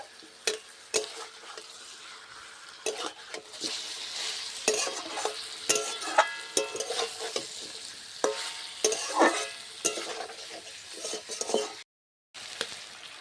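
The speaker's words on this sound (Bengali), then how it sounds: "এই পেঁয়াজ আর রসুনটার মধ্যে একটু ভালো করে চিকেনটা একটু ভেজে নেব" Chicken frying with onion, garlic and grated ginger in a pan, sizzling under repeated stirring clatters and scrapes, close and intermittent, with no speech.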